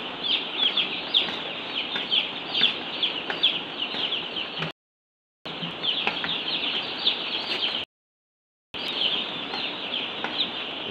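Broiler chicks in their pen chirp and cluck constantly in a busy, close chorus, with scattered wing flutters, interrupted by two short silences.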